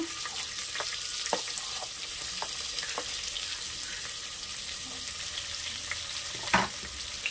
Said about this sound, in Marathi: कांदा छान गुलाबी होईपर्यंत परतून घ्यायचं.